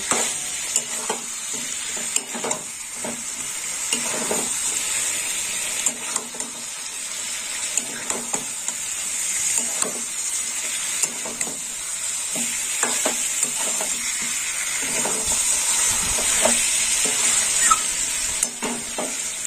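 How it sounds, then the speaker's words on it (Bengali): Fried eggplant stir-fried in a pan for begun bori jhal, with a steady close sizzle under repeated rhythmic spatula scrapes and knocks against the pan throughout, and no talking. "বেগুনটাও এর সাথে কষে নেব"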